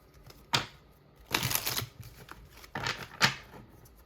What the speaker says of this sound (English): I'm going to shuffle this really good